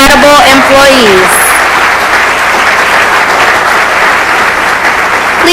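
College employees receive loud, full-room applause from the audience at a closing meeting, a speaker's voice trailing off over the opening second before dense clapping fills the hall and carries on evenly.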